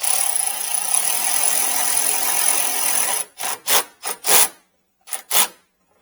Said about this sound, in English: Let me place it where it's supposed to go, and then we'll screw it down.